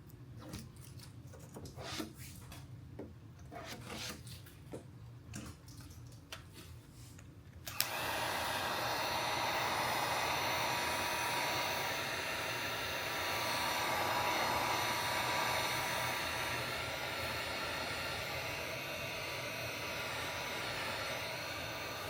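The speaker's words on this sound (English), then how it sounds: "heat it up with the heat gun, and then slap it on" Heat gun blasting hot air onto a carbon fiber rear diffuser during installation, a few seconds of faint handling rustle and then a sudden steady roaring hiss that runs unbroken to the end, close and alone.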